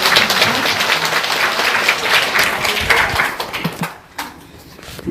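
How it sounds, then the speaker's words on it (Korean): A church congregation applauds during a Korean worship service right after a prayer, loud dense clapping that fills most of the stretch and then thins and fades near the end. "우리 하나님께 영광의 박수."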